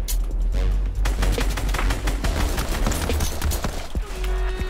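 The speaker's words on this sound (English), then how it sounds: "Why did that block half my shots?" Rapid gunshots in the video game Fortnite fire in a dense continuous volley, loud and close, with heavy low thumps under the repeated sharp cracks.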